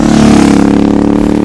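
A tuned Royal Enfield Super Meteor 650 with high-lift cams, a Powertronic ECU and a custom AEW exhaust idles loud and close, its exhaust note a steady, throbbing pulse with no pauses.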